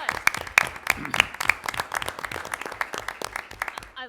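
A school board meeting audience gives a short round of applause for a new middle school principal, with crisp, close individual claps rattling at an uneven pace for a few seconds.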